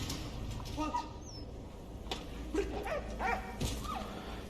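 A dog in the World War I game Valiant Hearts: The Great War gives short yips and whimpering barks at moderate distance over a busy game background, with a few scattered calls spread across the scene.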